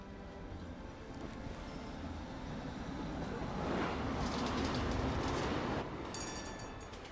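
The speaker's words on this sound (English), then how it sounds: "But here's our tram." A tram arrives in the video game Syberia: The World Before, a steady rolling rail rumble with faint clatter that swells, holds and then eases off, without talk.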